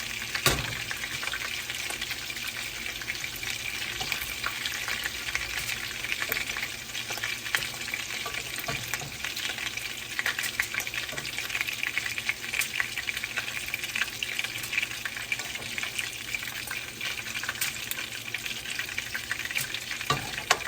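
Chicken pieces brown in a frying pan, with a steady, dense sizzle of hot oil that runs unbroken throughout and no talking.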